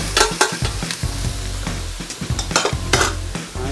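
Onions sweating in a pan for a lasagne bolognese: a loud, close sizzle broken by repeated clattering scrapes and knocks of a spoon stirring, with no talking.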